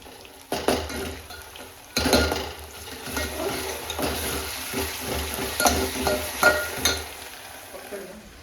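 Mutton fries with garlic paste in a pan, a close sizzle under repeated metal clanks and scrapes of a spoon against the pan, with a few sharper knocks.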